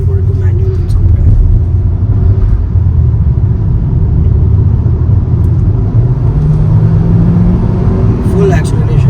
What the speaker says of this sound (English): Full acceleration in the corner.